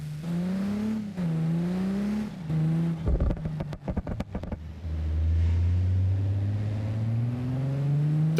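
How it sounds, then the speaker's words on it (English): A loud car engine drones and revs in the BeamNG.drive driving game, the pitch climbing and falling with bursts of rattling impacts midway before a steady rising roar, alone without talk. "And I'm sorry if this car is super loud."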